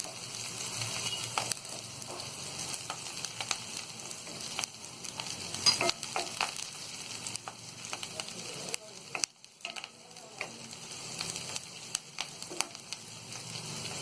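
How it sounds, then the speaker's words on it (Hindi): Green chillies fry in a pan with curry leaves for upma, a quiet steady sizzle with light crackles and occasional stirring scrapes. There is a brief gap in the sound. "और इसी में हम ये हरी मिर्च डाल देंगे और इसे भी हम हल्का सा फ्राई कर लेंगे।"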